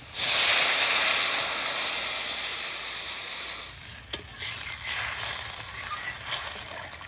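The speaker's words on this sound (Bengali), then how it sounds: "এবার জল দিয়ে দিচ্ছি" Water hits a hot pan of fish curry made with sea khoira fish, aubergine and potato, setting off a loud, steady hiss and steam sizzle that starts strong and then softens, with a few faint clinks and no talk.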